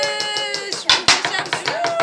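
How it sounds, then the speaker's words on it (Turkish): A small group of people clapping in a home setting, a sparse, uneven patter of close claps over a lingering tonal sound, with a few sharper claps near the middle. "Alkış."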